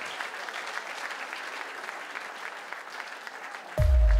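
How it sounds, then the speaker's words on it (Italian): Steady applause from an audience at a fashion evening at Caesar's in Cagliari, moderate and even, cut off near the end by a sudden loud burst. "Un applauso grande per tutte queste persone."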